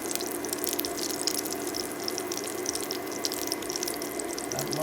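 Mushrooms are rinsed under running water, making a steady, close hiss and splash that continues without a break for the whole stretch.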